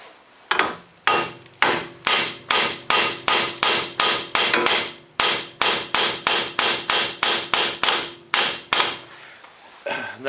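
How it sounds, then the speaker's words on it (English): Hammer knocking a front strut loose on a Ford Contour, around twenty hard metallic blows in a steady, close rhythm with brief pauses, no talk. "Might have to knock that with the hammer to get it loose."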